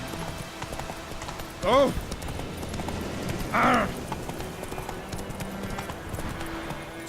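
A horse in The Witcher 3 Wild Hunt runs with steady hoof clip-clop under game ambience, and twice a loud neigh rises above it. A voice briefly exclaims in the scene.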